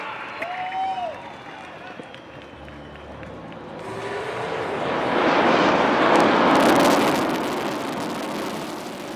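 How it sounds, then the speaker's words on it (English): A Sukhoi Su-30 MKI fighter jet flies past Marina Beach, Chennai, during an air show, its engine roar swelling loud over a crowd and commentary before slowly easing off. "உங்கள் முன்னால் Su-30 MKI"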